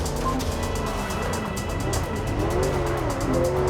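A roaring sky car chase in the video game MindsEye, with loud continuous engine drone, shifting revving tones and tire-like squeals as vehicles race close by, with no voices.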